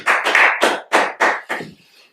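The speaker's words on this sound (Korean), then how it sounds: "우리 하나님께 감사와 영광의 박수를 돌리겠습니다." A church congregation gives six sharp, rhythmic claps in unison with short pauses between them, loud and close, the final clap trailing off into silence.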